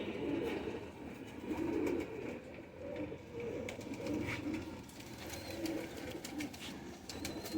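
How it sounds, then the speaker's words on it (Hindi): Pigeon chicks kept for breeding, with soft, repeated cooing pulses and faint chirps close by over a quiet room background. "बिल्कुल चूं चूं करते बच्चे और साफ़ आंखों के बच्चे, फुली हेल्थी और एक्टिव बच्चे हैं दोस्तों।"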